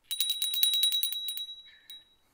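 A hand bell rings rapidly in a quick burst of about a dozen bright, close strikes over a steady high ring, then tapers into a faint tail with one last light tap.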